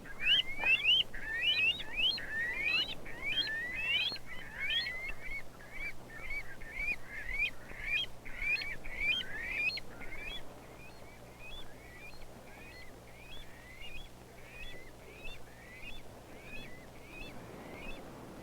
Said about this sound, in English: This beautiful bird is a rail